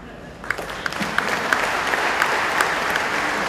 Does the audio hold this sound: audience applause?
yes